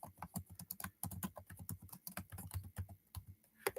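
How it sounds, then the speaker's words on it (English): Quick, uneven keystrokes on a computer keyboard clatter up close in steady bursts with brief pauses, with no talking. "I'm trying to type and talk"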